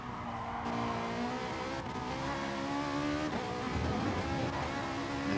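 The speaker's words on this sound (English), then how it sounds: "But amazing sound here from the Ferrari." A Ferrari race car engine at Interlagos in a sim racing game screams at high revs, shifting through gears with sustained loud harmonic whine and faint tire noise, no talk.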